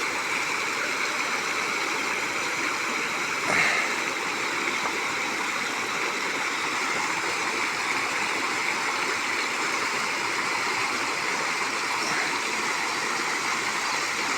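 River water rushing steadily and continuously, a broad close hiss with no pauses, plus a brief louder splash or knock partway through.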